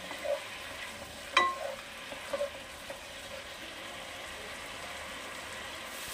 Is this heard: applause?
no